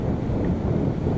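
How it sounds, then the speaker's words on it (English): Wind buffets a microphone on a beach, a steady low rumbling gust lasting about a second with no voices. "The wind is going this way, and I know it's kind of windy"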